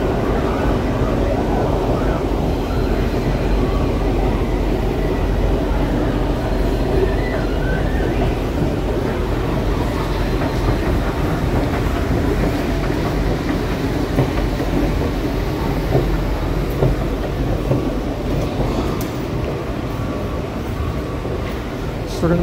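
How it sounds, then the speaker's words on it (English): A train rumbles steadily nearby with rattling, clattering wheels as it pulls away from an eastbound station platform, while people talk faintly in the background. "the train on the eastbound platform leaves"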